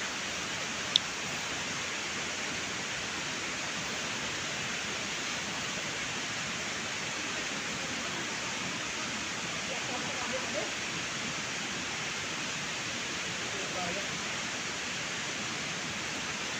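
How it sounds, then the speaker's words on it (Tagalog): Water rushes loudly and continuously at Hinilugan Falls in Pilar, Capiz, a dense steady roar filling the scene with only a brief faint tap near the start. "Ayan ang tubig. Rumaragasa na yung tubig."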